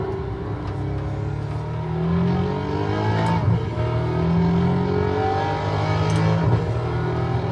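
A car engine in a racing video game drones steadily, rising and falling in pitch as it revs up through the gears and eases back on a circuit like the Nürburgring, continuous and without pauses.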